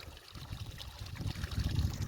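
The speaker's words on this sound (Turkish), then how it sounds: "Çeşmenin biri de burada akıyor." Water runs from a public fountain on a snowy roadside, a soft, continuous trickling and splashing heard close by without talk.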